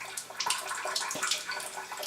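A gentle, steady trickle of acidic water runs slowly from a tap into a collecting vessel for pH testing, with soft splashing and bubbling close by and no voices.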